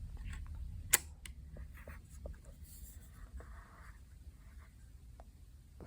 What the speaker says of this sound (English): The shutter is released and it moves across roughly a second.